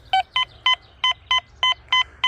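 Eight sharp, evenly spaced electronic beeps from a Quest X10 Pro metal detector, bright and close, pulsing in a steady rhythm over a faint low hum.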